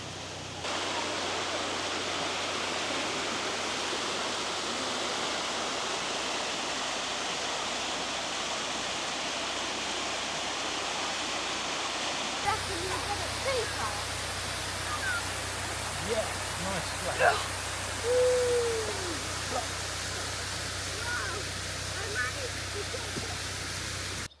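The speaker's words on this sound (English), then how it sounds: "we found this beautiful waterfall" Steady broadband rush of a waterfall in Bulgaria, constant and full throughout, heard close with no other clear sounds on top.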